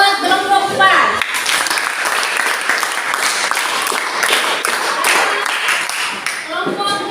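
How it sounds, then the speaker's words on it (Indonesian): A classroom of students claps for a group after its presentation, a dense, steady burst of applause lasting several seconds, with a voice talking briefly before and after it. "Tepuk tangan buat kelompok 4."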